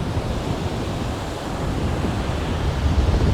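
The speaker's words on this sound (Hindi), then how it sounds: "ये वेव्स गाइस बहुत ज़्यादा तेज़ है" Strong ocean waves at a Goa beach make a loud, steady surf roar that swells slightly toward the end, with wind mixed in and no talk.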